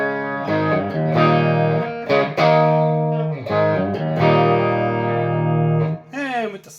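Clean electric guitar tone from a modded Wolfgang fitted with custom P90 pickups, played through an untouched Quilter amp: ringing chords and sustained notes with strummed attacks, up close and alone, ending in a quick slide.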